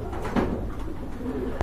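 Cooing from a pair of satin pigeons sits close and clear, a few soft low coos rising over steady background murmur.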